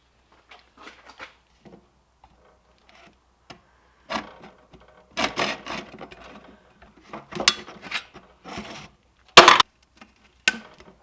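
A bone saw cuts notches into wood for a homemade crappie and bluegill tip-down, giving several short rasping bursts of sawing separated by pauses, close and fairly loud with no talk.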